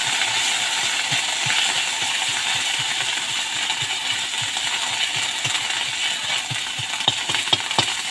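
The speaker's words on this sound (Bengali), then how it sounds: "এবার দিয়ে দিলাম আমার বাদ বাকি যে বেটে রাখা আদাটা, সেটা। ভালো করে আমি ভেজে নিচ্ছি।" Ground ginger paste fries in salted oil with a steady sizzle, while a utensil clinks against the pan in a quick, regular rhythm.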